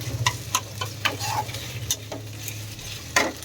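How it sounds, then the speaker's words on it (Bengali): Potatoes frying in a pan with ground cumin paste and crushed dried chilli, repeated scraping stirs of a spatula over a soft sizzle and a low steady hum, close and distinct, with no speech. "এই যে মশলা দিয়ে এবার আলুটা একটু কষে নিলাম"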